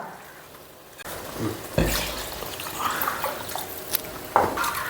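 Liquid is poured into a pan of Kerala-style fish curry to thin it into gravy, giving a steady, close splashing pour that swells near the two-second mark and continues with bubbling and sizzling.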